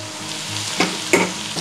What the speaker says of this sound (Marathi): हे चांगले तेलात आपण परतून घेऊ।